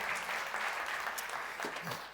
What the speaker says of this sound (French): Encouragez-le, applaudissez-le.